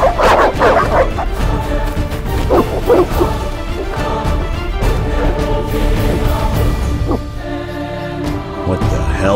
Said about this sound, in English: They're evil dogs.